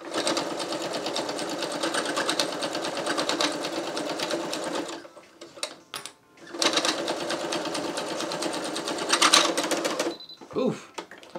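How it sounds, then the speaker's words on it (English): Sewing machine stitching a clown bodysuit, its motor whirring with rapid needle clatter in two long runs separated by a short pause with faint handling noises, then a brief final burst, close and loud. "I love when the sewing machine yells at me"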